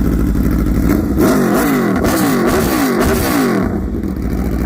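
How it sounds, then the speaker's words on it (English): A sport motorcycle fitted with a slip-on aftermarket exhaust revs hard nearby, loud repeated throttle blips rising and falling in pitch over a raspy idle, very loud throughout with no speech. "when he turned on his exhaust. Man, that is loud."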